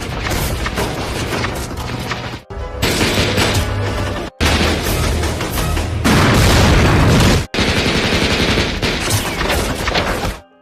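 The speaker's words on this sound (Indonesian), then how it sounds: "ledakan dahsyat pun muncul sebagai tanda dimulainya perang." Loud, dense blasts and rapid gunfire from a war film battle scene roar almost without pause, broken by a few abrupt cuts between intense bursts.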